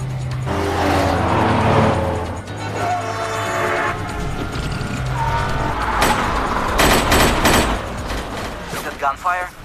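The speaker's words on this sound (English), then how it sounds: "Getting shot at." Gunfire during an action film car chase, sharp shots cracking over roaring engines and the rush of passing cars, loud and busy, with voices talking and shouting throughout.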